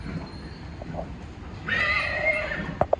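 Horses at Hazur Sahib, with a faint snort or two followed by a clear, fairly close whinny rising and trailing off, then a couple of brief snorts over low ambient noise.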